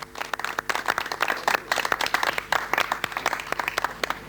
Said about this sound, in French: les artistes de rue s'applaudissent eux-mêmes